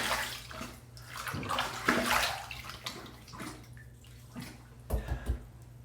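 A Schick injector razor is rinsed under running water, with a steady splashing rush and a few sharper splashes and clinks near the end.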